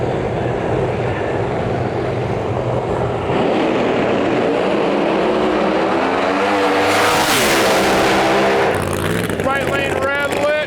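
Drag race cars, including a 6th gen Camaro, launch down the track at an outlaw nationals event, a loud roaring engine drone building to a rising high-pitched whine and fading, with an announcer talking over it.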